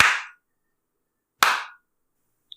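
Hands clapping in two loud, sharp isolated claps about a second and a half apart, followed by a couple of faint brief ticks.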